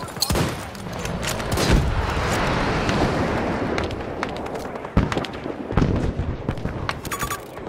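A grenade goes off in a video game firefight, its loud rumbling blast swelling and decaying over a couple of seconds, followed by scattered sharp gunshots and further bangs nearby.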